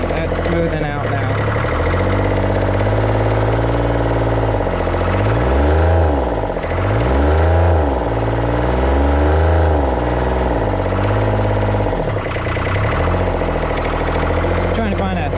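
A New Holland LS125 skid steer's engine runs loud and close, its low rumble rising and falling with throttle before settling into a steadier idle, with a voice talking over it at times.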